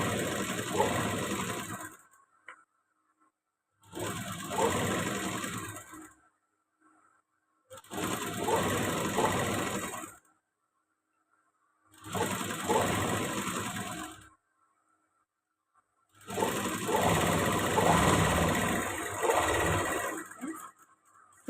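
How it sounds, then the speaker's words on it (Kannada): A sewing machine stitches the back of a blouse along a quarter-inch margin, running in five steady bursts of about two to three seconds each, separated by short silent pauses, close and clear with no talking. "ಕಾಲಿಂಚ್ ಮಾರ್ಜಿನಲ್ಲಿ ನಾವು ಸ್ಟಿಚ್ ಹಾಕ್ಕೊಳ್ತಾ ಬರಬೇಕು"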